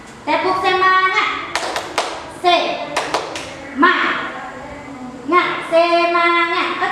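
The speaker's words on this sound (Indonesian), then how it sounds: "Ayo kita tepuk semangat dulu." A teacher and a class of children do the 'tepuk semangat' clapping chant in a classroom, sharp rhythmic hand claps bursting between sung and spoken call-and-response voices.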